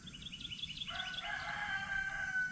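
Trespassing chickens in a garden, with a rooster letting out a clear, drawn-out crow at moderate distance over soft clucking and light background noise.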